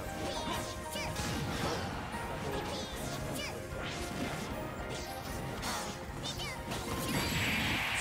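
A smash attack lands in Super Smash Bros with a sharp crashing impact and whooshing swings amid busy game effects, while a voice talks over the action.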